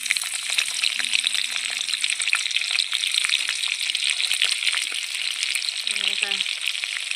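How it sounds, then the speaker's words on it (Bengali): Onions frying in refined oil in a kadai make a steady, close sizzle that crackles throughout, with a short stir or clink near the end and no talking. "কড়াইতে রিফাইন তেল দেওয়া হয়েছে ভেজে নেওয়ার জন্য। প্রথমে অল্প কিছু পেঁয়াজ দিয়ে দিলাম"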